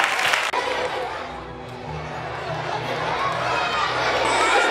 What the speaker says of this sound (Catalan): Una aplaudiment per ell i ella.